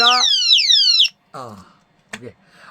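The alarm system on a Honda Hornet CB 125 motorcycle sounds off with loud, close, repeated falling electronic siren sweeps, followed by a couple of shorter chirps and beeps.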